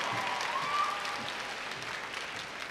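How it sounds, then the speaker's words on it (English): A graduation crowd applauds the valedictorian at a high school commencement, a steady wash of clapping across the whole stretch, moderately distant, with faint voices mixed in. "One more round of applause for the lady of the Valedictorian."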